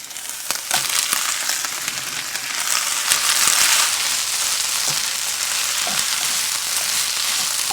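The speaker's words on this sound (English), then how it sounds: "we can add the bok choy into the onions" Bok choy fries with onions in a pan on a small van stove, giving a dense, steady sizzle with occasional clicks and scrapes of stirring, no talk.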